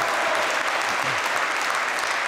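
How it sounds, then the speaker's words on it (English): Squash crowd bursts into sustained applause and cheering after a long front-court exchange between Evans and El Hammamy at the Black Ball Open 2020, a dense, steady roar of clapping throughout. "Crowd has come roaring to life, Joey, and they're just in appreciation of this here, this exchange around the front."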